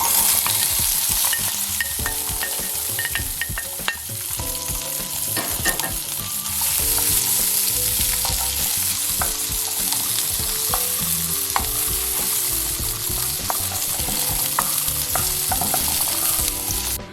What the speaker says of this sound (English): I'm gonna saute my veggies for a couple of seconds